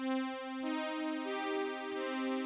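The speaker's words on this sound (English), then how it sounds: "So this is the sawtooth. It sounds like this." A bright, buzzy sawtooth wave synthesizer tone in Ableton holding steady pitches with rich harmonics, a sustained drone that shifts note partway through.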